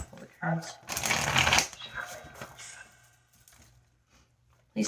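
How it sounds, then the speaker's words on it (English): Tarot cards being shuffled in quick riffling bursts, a loud flurry in the middle that trails off into softer shuffling, with a brief voice near the start. "Shuffle the cards."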